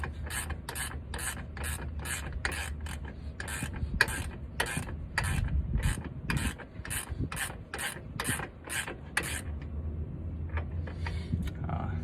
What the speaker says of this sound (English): Just go ahead and wrench it on.